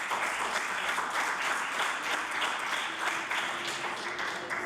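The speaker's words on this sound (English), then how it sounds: "I would like Mr. Hall to stand up and receive the applause of the House." Applause in the House of Assembly chamber, many members clapping together in a dense, steady burst that carries on for several seconds.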